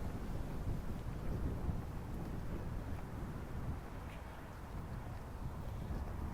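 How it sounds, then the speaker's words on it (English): Strong wind roars and buffets steadily, with low rumbling gusts throughout and no voices. "It's very windy now."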